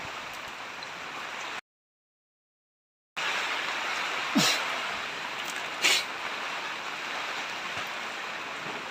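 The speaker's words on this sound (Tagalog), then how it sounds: "grabe lakas na naman ng ulang guys" Heavy rain pours down in a dense, steady roar of hiss, briefly cut to total silence, then resuming with a couple of louder thumps and clatters mixed in.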